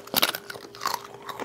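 Crunchy bites into the crisp fat of smoked pulled pork, a few close crackling crunches clustered early, then softer chewing, with no talk.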